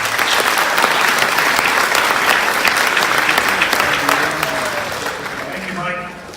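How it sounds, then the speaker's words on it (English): A school sports gathering's audience gives a dense, sustained round of applause for a speaker being introduced, loud and close throughout before thinning slightly near the end. "let's have a round of applause for Mr. Scott Davis"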